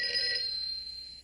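A telephone rings in a Walt Disney cartoon, a single short bright electric bell ring heard clearly and alone, fading at the end.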